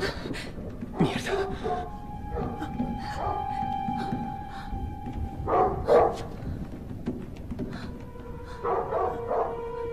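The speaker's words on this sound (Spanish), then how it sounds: "¿A qué mierda le está ladrando?" A dog barks in a horror film scene, several sharp barks and yelps scattered over a tense background with voices talking in between, moderately near and not very loud.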